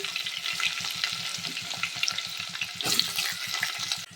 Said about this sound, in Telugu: ఉల్లిపాయలు వేస్తున్నానండి.